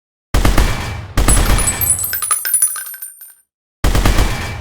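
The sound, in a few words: weapon gunfire in a Unity FPS game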